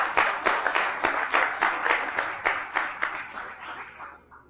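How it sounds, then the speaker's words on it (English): Sparse audience applause after a panel discussion, individual claps standing out in a loose rhythm and fading away toward the end. "please give a round of applause to this fantastic panel"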